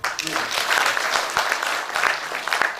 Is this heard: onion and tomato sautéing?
no